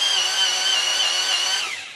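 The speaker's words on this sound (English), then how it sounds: "So I'm actually using my electric sharpener to sharpen it because it seems to give it a better point." An electric pencil sharpener grinds a yellow ochre watercolour pencil with a loud, steady high whir close by for about two seconds, then winds down at the end.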